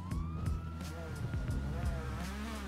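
A police car siren wails over rumbling engine and road noise, with a rising-falling tone amid the busy traffic sound, during a chase in Brazil.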